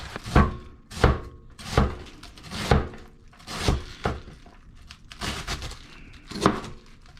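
A knife chops through red cabbage on a board, about ten sharp, evenly spaced thunks with crunchy tearing in between, close and fairly loud.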